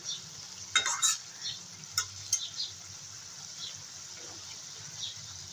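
Leafy kochu greens cooking with pona fish in a pan, giving a steady soft sizzle with a few sharper stirring scrapes near the start.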